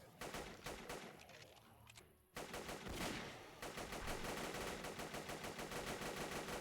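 Crossfire in the Zomborg game, with dense, rapid automatic gunfire coming as steady rattling bursts, loud and close. There is a brief lull midway before the sustained firing resumes.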